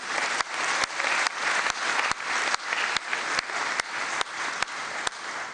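A crowd applauding steadily, dense sustained clapping with a few sharper claps standing out, loud and continuous throughout.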